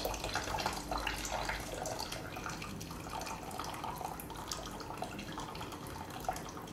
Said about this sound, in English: we're going to take our cheesecloth and hang it up again